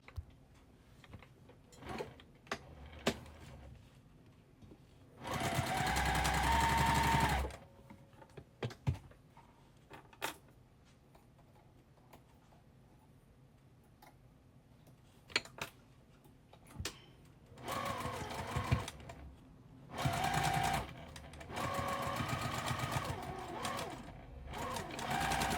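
A sewing machine stitches a quilt block in short bursts: a burst of steady stitching, a pause filled with small ticks and handling sounds, then several more runs of stitching near the end.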